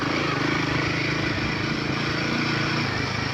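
A Royal Enfield Himalayan 450 motorcycle rolls steadily over rough, bumpy ground, its engine giving a continuous loud drone mixed with dense rumble and jolting noise from the terrain, with no break in the sound.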